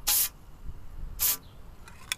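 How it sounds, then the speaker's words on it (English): Cleaner sprayed at a musket barrel in a van, two short sharp hissing bursts spaced about a second apart, close and loud, followed by faint clicks from the spray bottle. "you are going to spray it just a little bit"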